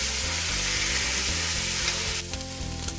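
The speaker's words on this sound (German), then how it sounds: "jetzt kippt Horst erstmal die ganzen Möhren rein. Jawohl. Und auch das ganze Grillgemüse. Oh, hör mal. So, und das brutzeln wir jetzt erstmal schön an." Carrots and grilled vegetables sizzling in hot butter in a pot, a loud, dense, continuous frying hiss close up, with a stirring clatter near the end.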